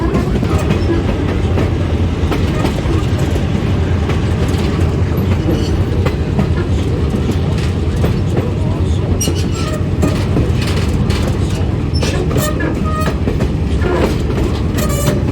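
Verde Canyon Railroad train rolling along the tracks, heard from the front near the locomotives: a loud, steady rumble with rattling clatter and occasional sharp metallic squeals throughout.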